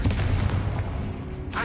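A Confringo blasting spell explodes in Hogwarts Legacy, a loud booming blast that rolls and fades over about a second, followed by a brief bright burst at the end.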